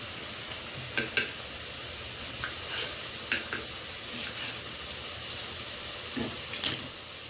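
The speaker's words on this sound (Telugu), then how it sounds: "ఆ లోపల అల్లం వెల్లిగడ్డ కూడా ఫ్రై అయిపోతుంది మంచిగా" Ginger and garlic frying in a pan for a masala, giving a steady close sizzle with occasional light clinks and stirring taps scattered throughout.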